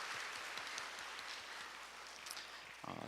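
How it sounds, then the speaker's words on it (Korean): Welcoming applause from a church congregation at a Sunday morning service, a steady wash of many hands clapping at a distance throughout, with a brief closer rustle at the end. "우리 환영의 박수로 함께 하도록 하겠습니다"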